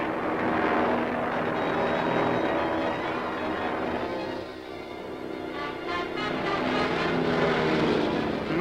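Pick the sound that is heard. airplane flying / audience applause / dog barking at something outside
airplane flying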